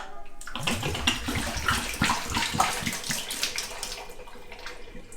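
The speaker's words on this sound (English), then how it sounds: "pour the liquid out of the brewing dock." Liquid pours out of a Pinter brewing dock in a continuous splashing gush, close and fairly loud, tapering slightly toward the end.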